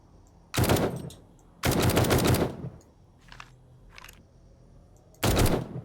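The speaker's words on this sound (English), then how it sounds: "Shoot them while they're down because they would do the same to you" In the game 7 Days to Die, three loud bursts of rapid automatic gunfire sound close by, separated by brief pauses in which faint, softer shots are heard.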